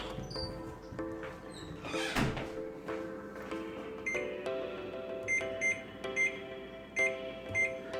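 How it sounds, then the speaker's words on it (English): A kitchen timer being set to 15 minutes in a workshop where interior trim is being Plasti Dipped, giving a run of short electronic beeps and clicks that repeat in a steady rhythm, close and fairly quiet over low background noise. "Got my 15-minute timer on."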